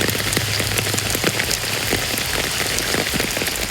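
Moderate rain falls steadily on surfaces in rural Tiruvarur district, a dense, continuous patter of drops close by with no voices.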